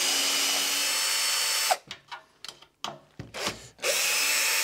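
A power drill loosens the three screws on each side of a Swardman mower's drive roller, whirring steadily and close, then breaking into several short bursts before running on continuously again.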